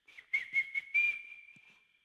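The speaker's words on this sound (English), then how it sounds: "And the whistle goes for half-time." Referee's whistle blowing for half-time in the eFootball 25 video game, a clear shrill blast broken into several short pulses and then one longer sustained tone that fades out.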